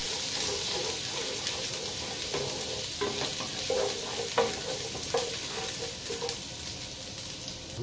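Ginger stir-fries in hot cooking oil and pork fat, a constant dense sizzle with repeated scraping stirs of a utensil against the pan, close and steady throughout.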